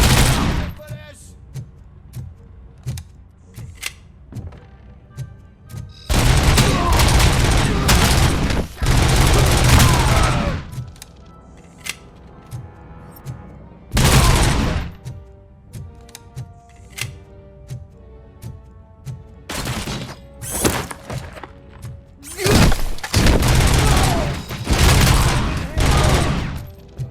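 Gunfire in the video game RoboCop: Rogue City comes in loud, close bursts of rapid shots, several sustained volleys separated by quieter stretches with single cracks and background game sound.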